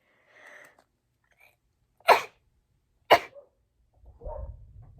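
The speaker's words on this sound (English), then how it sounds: "I don't know why I'm sneezing so much." Two sharp sneezes about a second apart, close and abrupt, with faint rustling before and after.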